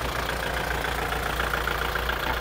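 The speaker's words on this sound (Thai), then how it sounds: "เครื่องสตาร์ทติดง่ายนะครับเสียงเครื่องปกติ" A Kubota L5018SP tractor, 2021 model fitted with a front blade, idles with a steady low diesel rumble and even mechanical clatter, close and loud throughout with no voices.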